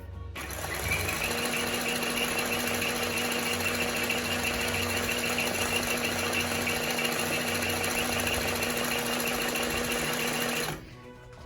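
A Singer 20U industrial sewing machine runs continuously at a steady, even speed for about ten seconds, close and fairly loud, then stops abruptly.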